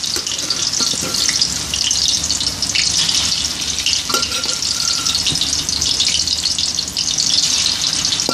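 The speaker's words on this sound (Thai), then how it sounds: "ฉีกออกมาแล้วก็เอาลงไปทอด" Pounded striped catfish deep-frying in hot oil for fried fish larb, a loud, continuous close sizzle and crackle with bubbling throughout.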